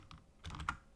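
A key combination clicks on a computer keyboard during 3D modelling work, a couple of faint taps followed by a closer cluster of quick keystrokes, with no voice.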